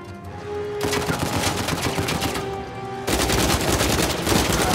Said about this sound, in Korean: 총소리 마음에 들어